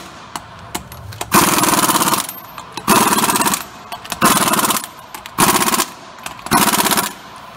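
An impact wrench hammers the lug nuts on a 4WD GM truck wheel in a shop, five loud rattling bursts of about a second each separated by short pauses and small clanks.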